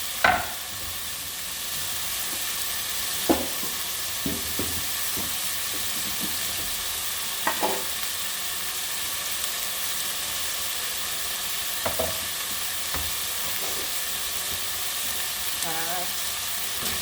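Meat stir-frying in oil in a pot for kimchi stew, a steady, dense sizzle that runs throughout, close and loud, with occasional scraping knocks of a utensil stirring.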